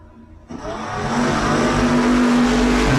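Drag racing cars launch from the starting line at full throttle, engines roaring up from quiet into a loud, sustained, rising blast that fills the rest of the short span.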